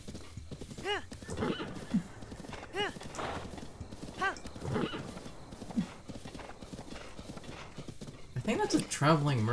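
A horse in The Legend of Zelda: Breath of the Wild gallops with rhythmic clip-clop hoofbeats and lets out several whinnies, under near-constant talking over the game.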